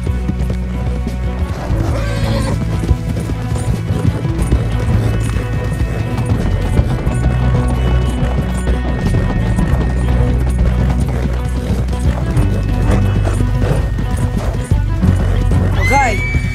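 Horses gallop with rapid hoofbeats amid loud Red Dead Redemption 2 music, with sharp whinnies rising near the start and again at the end.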